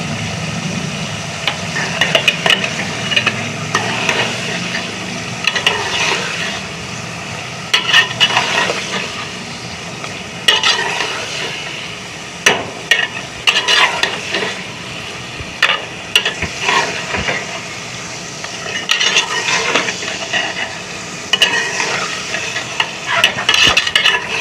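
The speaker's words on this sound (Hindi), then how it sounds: "गोश्त के साथ प्याज को हम नरम कर लेंगे।" Onions sizzle with beef in a pot while being stirred, a steady frying crackle broken by repeated scraping and clattering strokes of the spoon, close up and continuous, with no talking.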